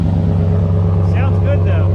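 An old turbocharged GMC truck idles through its twin mufflers, a deep, steady, loud rumble with a throbbing low pulse held throughout, with someone talking over it.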